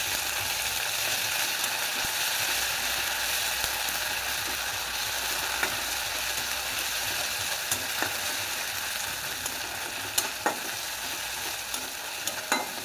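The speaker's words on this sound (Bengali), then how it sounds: "এবার আমি আদা রসুনের পেস্টটা দিয়ে ভালো করে কাঁচা গন্ধটা আমি নেড়ে দেবো" Onions with ginger-garlic paste fry in a pan for dal, giving a steady, soft sizzle broken by occasional scrapes and clicks of a spatula stirring the mixture.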